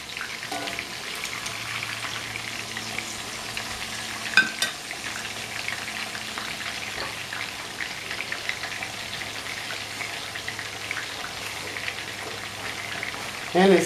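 A beef pot roast sears in a pan with a continuous, steady crackling sizzle, close and even throughout, with a few brief clinks and no talking.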